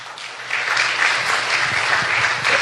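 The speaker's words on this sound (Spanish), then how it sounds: "Dale un aplauso al Señor" A church congregation applauds together, a dense steady wash of clapping that swells after a brief start and carries on evenly.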